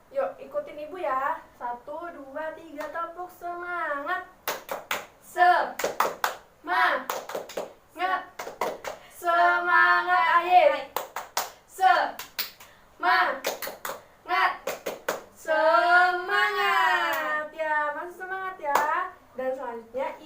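A class claps along in a rhythmic chant, with sharp bursts of hand claps in patterned groups between children's and a teacher's chanting voices, the claps mixed in with the singing.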